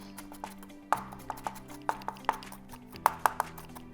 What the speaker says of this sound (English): Right now I'm just gonna finely chop this.